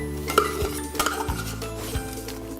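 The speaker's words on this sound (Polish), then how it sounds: "Całość teraz dokładnie mieszamy." A spoon stirs a chocolate mousse mixture of melted chocolate, chili, egg yolk and beaten egg whites in a bowl, with steady scraping strokes and occasional light clinks against the bowl, close and without talk.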